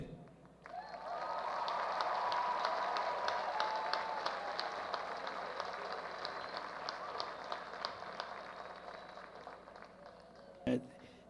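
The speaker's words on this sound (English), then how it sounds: "Give a round of applause for graduating you dogs of class of 2021." Applause fills a 2021 high school commencement ceremony, a broad wash of clapping from a large crowd that swells quickly, holds steadily for several seconds and fades slightly, ending with a brief thump.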